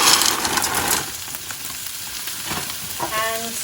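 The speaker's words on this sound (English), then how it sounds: "got a couple of tablespoons of oil, and then I'm adding 1 chopped up carrot and 2 chopped up red onions" Chopped carrot and red onions sizzle in a couple of tablespoons of hot oil, a steady bright frying hiss that is loudest at the start and settles into a softer continuous crackle, with a brief clink near the end.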